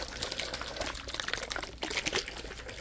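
Liquid wood polish poured from a bottle, a quick series of splashing, gurgling pours and drips, close and fairly soft.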